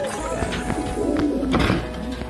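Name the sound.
pigeons cooing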